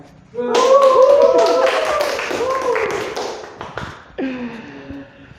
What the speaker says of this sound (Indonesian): Nah, ada tepuk tangannya ya.